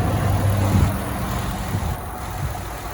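A 2011 Ford F-150 Lariat 4X4 SuperCrew pickup engine idling, a steady, smooth low rumble heard close by for a few seconds with a slight swell early on.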